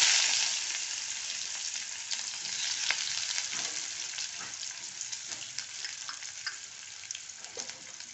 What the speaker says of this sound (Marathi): फुल गॅसवर ना आपला कांदा असा परतायचा थोडा.